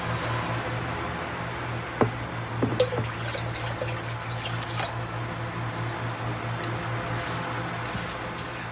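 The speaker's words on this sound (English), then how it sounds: "This is a way I can add water, nutrients, whatever's needed, simply by pouring it into here." Water trickles steadily into a hydroponics fill cup, a soft continuous pour with a few faint drips and clinks, heard alone at low volume over a constant background hum.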